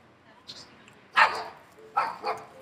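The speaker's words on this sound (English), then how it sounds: "My dog Mister is gonna give me a heart attack, y'all." A dog gives a few short, sharp barks indoors, one single and then a quick pair, at moderate distance during a home unboxing.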